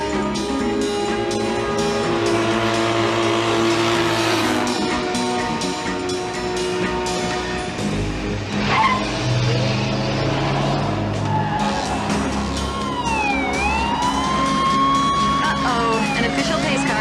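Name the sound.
cars racing in a drag race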